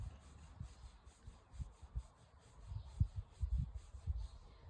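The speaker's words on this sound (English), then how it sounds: "Again, tapping, rubbing." Hands rub the body during Dao Yin qigong full-body self-massage, making soft, quiet brushing strokes that repeat in an uneven rhythm with slightly louder swipes toward the end. No one speaks.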